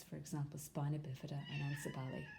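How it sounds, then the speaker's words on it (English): A domestic cat meows close by in a few short calls, partly under a person lecturing steadily. "That's my cat calling me."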